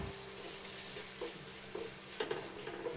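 Onion and chopped tomato being stirred in a pan over a low flame, with a steady close sizzle and a few scraping strokes of the spoon, no voices.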